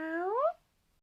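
A woman imitates a happy, content cat meow with her voice, a single rising, tonal meow lasting about half a second, close and clear, followed by silence.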